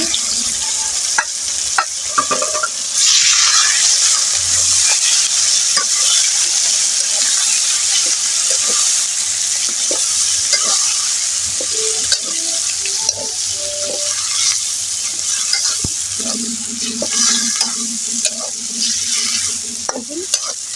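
Taro leaf bharta added to a hot pan and fried, with a spatula scraping and stirring repeatedly through a steady sizzle, plus a brief burst of running water midway.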